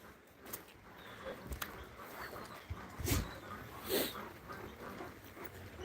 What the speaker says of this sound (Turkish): Anadolu çoban köpekleri işte.